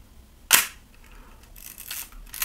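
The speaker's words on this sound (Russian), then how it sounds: "Как вы видите, здесь используется ламельный затвор. Попробуем продемонстрировать его работу." A Zenit AM camera's leaf shutter fires once with a sharp, close click, followed by softer mechanical whirring and rattling from the camera body.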